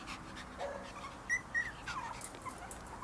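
Maltese puppies in a cage give soft, intermittent whimpers and small yips, faint and close, with brief louder cries near the middle over a quiet, hissy background.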